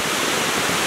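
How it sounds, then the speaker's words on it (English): Water trickles over a small dam at Evergreen Lake, Colorado, a steady, fairly loud hissing rush of flowing water with no other sounds or voices. "where the water trickles over that small dam down there"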